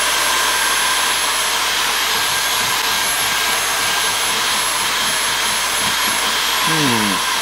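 A Dyson V7 Motorhead cordless vacuum cleaner runs steadily and loudly close by, its high-pitched motor whine constant throughout, picking up debris on a carpet.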